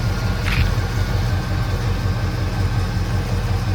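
A 1970 Lincoln Continental Mark III's big engine idles nearby in a steady, low, even throb, with one brief brighter click partway through.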